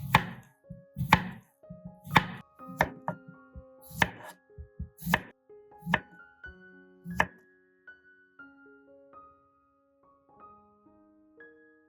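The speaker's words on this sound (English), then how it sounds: "Cucumber, thinly sliced or shredded." Cucumber is sliced thinly on a cutting board: a series of sharp, evenly spaced knife chops rings out close and clear, then stops, while ringing musical tones linger and carry on alone afterward.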